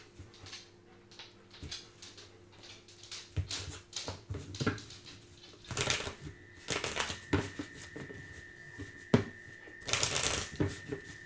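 Tarot or oracle cards being shuffled by hand, a run of riffling, flapping bursts that come in clusters, close and fairly quiet with no speech.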